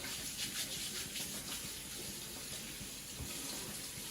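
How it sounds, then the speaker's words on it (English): Water runs from a kitchen tap over ginger being rinsed in the sink, a steady faint splashing stream with small irregular spatters throughout. "you just washing some ginger for the drops"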